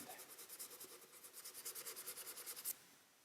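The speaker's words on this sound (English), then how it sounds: "every corner that can get touched, first, give it a bit of sand." Sandpaper rubs over the corners of a small wooden box in quick rhythmic back-and-forth strokes, close and soft, about twenty passes before stopping abruptly.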